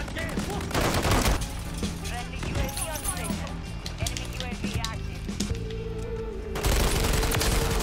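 Rapid gunfire from the Tactical Engineer Sniper, a 3D-printed sniper rifle firing like an assault rifle in Call of Duty: Modern Warfare III, rattling off in fast bursts amid game music and effects, with a loud burst at the end.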